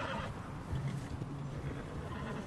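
Horse in Red Dead Redemption 2 neighing with soft hoof clip-clops beneath, short and fairly close against a busy game backdrop.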